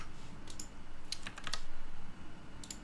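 Keys clack on a computer keyboard while entering an Excel formula, short bursts of quick taps in separate clusters, close and crisp over a faint low hum.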